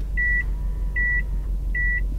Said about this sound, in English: Oh, and it beeps.